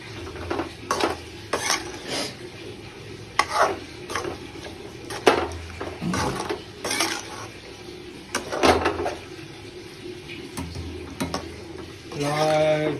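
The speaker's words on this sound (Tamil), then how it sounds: "அப்படியே இந்த இதை தட்டி வச்சுட்டு நல்லா கிண்டி விட்டுறணும்." Shallots, curry leaves and coriander are stirred into chicken curry with okra in a pan, with repeated spoon scrapes and clinks over a low sizzle, close and uneven in rhythm.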